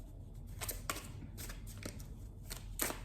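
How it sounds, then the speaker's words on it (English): Tarot timing cards being shuffled and pulled by hand: a series of quiet, brisk riffling bursts at a steady rhythm, close and soft, with no talk. "I'm going to pull the timing cards for Taurus."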